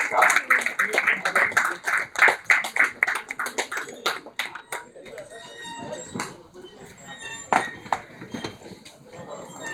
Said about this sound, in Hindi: हमारी जोरदार तालियों के साथ आपका स्वागत है।